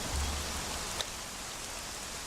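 Steady rain falls in the video game Conan Exiles, a soft even hiss of drops on surfaces that continues unbroken. It stays quiet and constant, with one small tick partway through and no voices.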